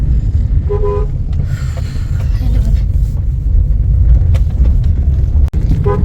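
A school van pulls up and honks with short toots over a heavy low engine rumble, loud and close, with faint voices in the background.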